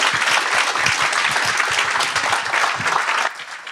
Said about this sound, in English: So let's give a round of applause, please,